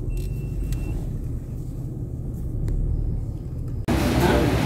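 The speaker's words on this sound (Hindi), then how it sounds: "रश बहुत है आगे, गाड़ियों का ट्रैफिक बहुत है" Heavy road traffic near a restaurant in Saudi Arabia, with a constant low rumble of passing cars and engines and a sudden louder rush near the end; a voice is faintly present.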